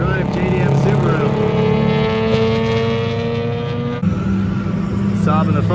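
Saab and Ford Focus race cars battling on track in a 24 Hours of Lemons endurance race, a steady loud engine drone with shifting tones as the cars pass, with a voice talking over it.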